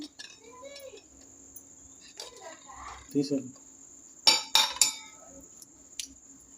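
Freshly boiled eggs from an electric egg boiler are dropped into cold water for peeling, giving a few sharp clinks and knocks in a quiet kitchen with faint background chirping.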